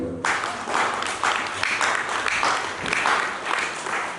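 A church congregation claps and cheers in rolling waves, steady and fairly loud, filling the room without speech on top.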